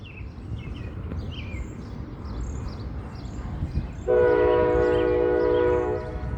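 A loud, steady train horn blasts partway through, sustained for about two seconds over rumbling rail noise, with faint bird chirps earlier.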